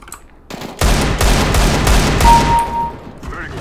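Desert Eagle pistol shots in CS:GO on the Dust II map during deathmatch, a dense run of loud, sharp cracks packed over about two seconds, then ringing tails and a faint whine fading out.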